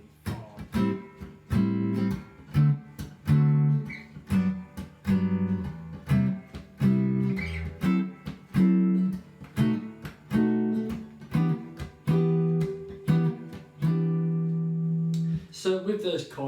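Jazz guitar strums chord voicings with roots on the sixth and fifth strings through the first eight bars of a jazz standard, one close, clear chord per beat in a steady swing, ending on a sustained chord.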